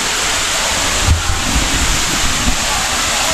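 Daranac Falls, a waterfall, roars in a steady broadband rush from nearby, with some wind buffeting on the microphone and no clear talk.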